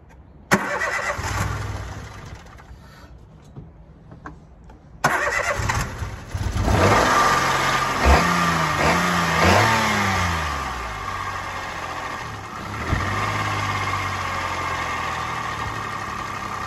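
A Peugeot 107 car engine, jump-started with a battery booster, cranks and catches, then revs up and down loudly a few times before settling into a steady idle.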